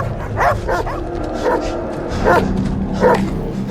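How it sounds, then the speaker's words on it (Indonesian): A pack of wild dogs in a film scene barks and yelps in loud, close, repeated bursts about every half second to second over a steady noisy background. "Sementara kawanan anjing liar mulai mengerubunginya."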